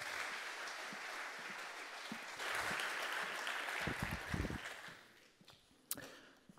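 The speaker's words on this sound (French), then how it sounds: "applaudissez-le fort" A conference audience applauds a speaker at a GitOps tech talk, steady broad clapping that swells, then thins out into a few scattered claps before fading.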